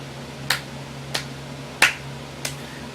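Four slow, sharp hand claps, sarcastic in tone and evenly spaced with pauses between them, heard alone and fairly close over a faint low hum.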